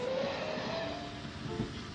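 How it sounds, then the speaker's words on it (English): An animated train runs along an imaginary branch line in a cab-ride scene, passing another train in a station and one more at a level crossing. A steady rolling rumble fills the clip with a faint horn-like tone, and no one speaks. "passing another train in a station and yet another train on the level crossing beyond it"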